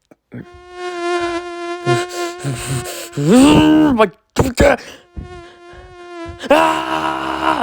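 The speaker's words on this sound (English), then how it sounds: "because I added the buzzing sound effect and the screaming" A buzzing insect sound effect for a stop-motion film whines in sustained pitch-wavering drones, broken by loud strained screams, all close and prominent with short gaps of silence between bursts.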